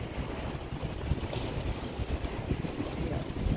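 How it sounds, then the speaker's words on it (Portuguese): Large ocean waves break onto the sandy strip of Boa Viagem beach, near rocks, as a continuous close roar of surf mixed with heavy wind buffeting the microphone. "Tem hora que vem aquelas ondas grandes e quebram justamente aqui, na faixa de areia."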